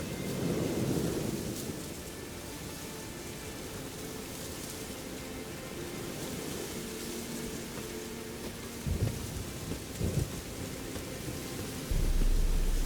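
Steady rain hisses throughout with low rumbling thunder rolling underneath, a couple of sharper thumps near the end, no voices, in the video game The Witcher 3: Wild Hunt.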